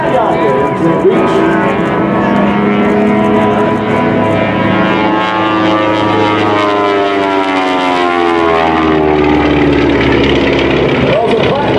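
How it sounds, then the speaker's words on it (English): A Twin Beech piston propeller aircraft passes at an air force base open house airshow at Dover, its loud, droning radial engines sweeping in pitch as it flies by, with an announcer talking over it. "Now as it takes that beautiful aircraft back to the skies over Dover, silhouetted nicely by the clouds overhead."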